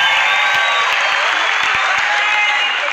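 Applause from a comedy show audience: a dense, even wash of many hands clapping, loud and sustained over three seconds, with crowd noise mixed in.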